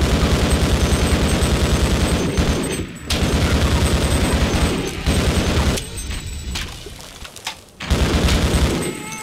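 Rapid bursts of gunfire in the video game Half-Life, loud repeated shots in quick rhythm with brief pauses between volleys.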